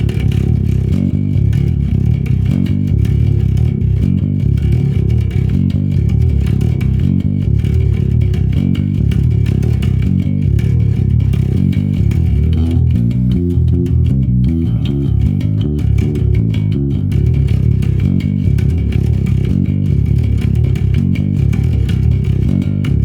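Slow, heavy bass guitar working through death metal riffs from the start, a dense low-end chug that runs steadily and loudly without pause.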